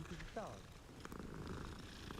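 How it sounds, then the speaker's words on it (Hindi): A cat purrs in the video game Hogwarts Legacy, a soft continuous rumble under quiet game ambience and a faint voice, low in level throughout. "ओ बिल्ली"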